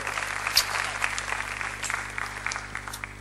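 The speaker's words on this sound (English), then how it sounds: "the biggest round of applause" Steady applause from a press-conference audience for an actress, a continuous wash of many hands clapping at moderate distance over a low hum, with no voices breaking through.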